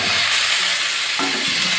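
Pointed gourd being stirred and fried in a wok, a steady bright sizzle with scraping stir movements, close and alone.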